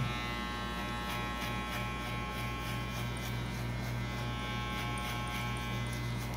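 Electric hair clipper fitted with a 1.5 guard buzzes steadily and continuously while cutting a low fade, a close, even drone with no talk.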